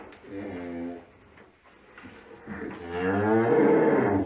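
A cow moos twice nearby, a long low call followed by a louder, drawn-out second moo, with faint background noise between them.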